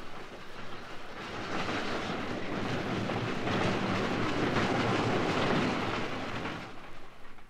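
A train on the Festiniog Railway rumbles past, a steady broadband roar that swells after the first second, holds through the middle, and eases off near the end, with no voices.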